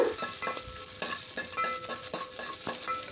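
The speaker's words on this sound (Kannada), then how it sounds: "ಒಗ್ಗರಣೆಗೆ ಮೆಣಸಿನಕಾಯಿ, ಸಾಸಿವೆ, ಹಾಗೆ ಕರ್ಬೇವಿನ ಸೊಪ್ಪನ್ನು ಹಾಕ್ಕೊಂಡು ಒಂದು ಸ್ವಲ್ಪ ಈರುಳ್ಳಿಯನ್ನು ಒಗ್ಗರಣೆಗೆ ಹಾಕ್ಕೊಂಡು ಒಗ್ಗರಣೆ ಬಾಡಿಸ್ಕೊಳ್ಳೋಣ" A tempering of onion, green chillies, mustard seeds and curry leaves fries in hot oil for a bitter gourd sambar, a soft continuous sizzle broken by regular spoon scrapes and taps against the pan.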